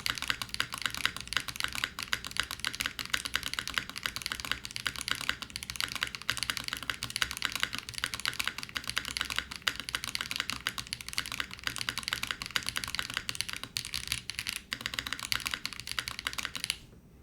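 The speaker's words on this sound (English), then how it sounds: "Razer switch does sound pretty good on this too" Steady, fast typing on a Razer BlackWidow keyboard fitted with Razer switches: a dense, continuous stream of close, crisp key clicks that runs without a break for the whole stretch, with no voices.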